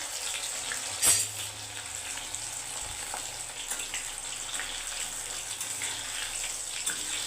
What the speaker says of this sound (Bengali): কি সুন্দর চিপসগুলো ভাজা হচ্ছে দেখো